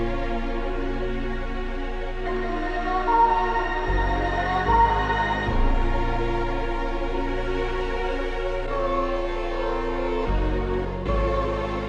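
A dark orchestral sample with strings, bass piano and vocals, washed in heavy reverb, plays loud and sustained, with layered tones and deep bass notes shifting every few seconds.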